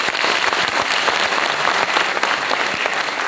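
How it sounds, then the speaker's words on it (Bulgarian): Loud, steady audience applause fills a children's kindergarten anniversary celebration hall, dense clapping from a large crowd continuing evenly throughout. "Аплодисменти за всички тях."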